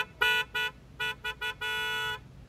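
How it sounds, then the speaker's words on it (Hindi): A Hyundai Creta car horn fitted on a Brezza, sounding loud and close in a series of honks: two short toots, three quick beeps, then one long sustained blast. "क्रेटा का हॉर्न बेस्ट है इसलिए क्रेटा का ही हॉर्न लगवा रहे थे"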